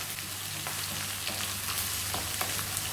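Ginger and garlic frying in hot ghee for a mushroom pulao, a steady close sizzle with faint crackles and light stirring ticks over a low background hum.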